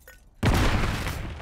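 A C4 charge detonates in Modern Warfare III after a short quiet moment, a sudden loud close blast with a deep rumbling tail that stays heavy and slowly fades.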